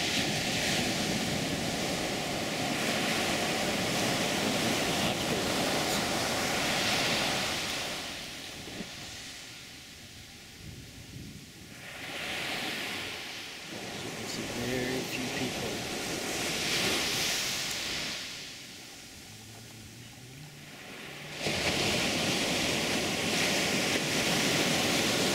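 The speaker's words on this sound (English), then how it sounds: "big waves coming in here." Large ocean waves break and wash onto Playa Potrero beach in Costa Rica as a loud, continuous roar that swells and recedes in slow surges, mixed with wind rumble.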